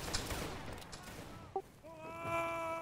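Musket volley in a Napoleonic-era multiplayer battle game set in France: a broadband burst of shots with a sharp crack near the middle, then a sustained tonal wail or horn-like ringing toward the end, under a noisy battlefield bed.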